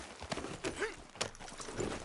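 Horse hooves clip-clop in Red Dead Redemption 2 while riding out toward the water, a steady rhythm of close, moderately loud hoof strikes mixed with game ambience and no talk.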